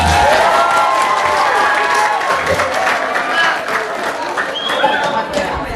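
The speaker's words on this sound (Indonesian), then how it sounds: "Tepuk tangan dulu untuk MC kita" School audience at a high school anti-drug outreach event applauding the student emcee, loud continuous clapping with crowd murmur and some cheering, fading slightly toward the end.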